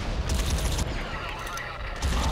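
Gunfire in the video game Crysis 2 during a vehicle battle, a dense run of loud, rapid shots and bursts with booming low end, continuous over the whole stretch with a brief dip midway.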